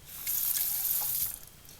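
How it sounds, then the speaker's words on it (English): Tap water runs over a paintbrush for about a second, a close hissing splash with no talking, and then it fades. "we're going to put a little bit of water on here"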